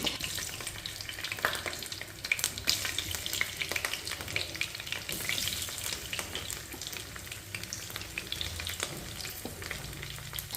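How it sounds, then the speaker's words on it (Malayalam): Cauliflower pieces for gobi fry crackle and sizzle steadily in hot oil, cooked in batches, a dense continuous frying hiss with scattered pops running close and alone for the whole stretch. "ഇതിപ്പോൾ ഞാൻ രണ്ട് ബാച്ചായിട്ട് ഫ്രൈ ചെയ്തെടുക്കുന്നുണ്ട്"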